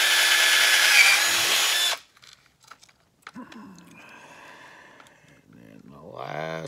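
A power drill whirs loudly for about two seconds drilling through kydex, then stops, followed by quieter handling noises and a voice speaking.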